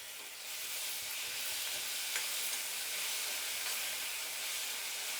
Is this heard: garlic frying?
yes